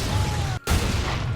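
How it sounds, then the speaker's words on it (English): Explosions go off in the video game Watch Dogs 2, loud, dense blasts and crackling bursts filling the scene, broken by one brief drop to near silence partway through. "Those explosions drew the police"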